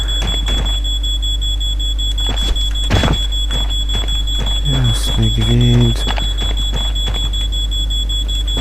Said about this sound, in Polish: Alarm przestał pikać.